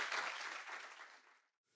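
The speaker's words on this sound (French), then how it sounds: "Je pense qu'on peut les applaudir." Dense audience applause after a panel session on investing in tangible assets, steady and broad, then fading out into near silence.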